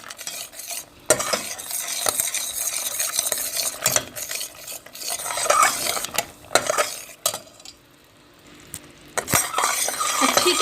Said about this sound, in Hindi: अब हम डाल देंगे इसमें और अच्छी तरह से हिलाएंगे